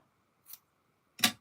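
Two crisp scissor snips trimming ribbon for a handmade pop-up card, the first light and short, the second louder and fuller about a second later, close and alone in a quiet room.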